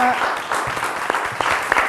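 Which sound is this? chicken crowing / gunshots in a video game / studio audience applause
studio audience applause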